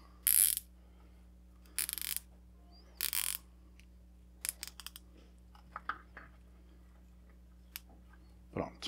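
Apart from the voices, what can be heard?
zip tie being tightened around bonsai trunks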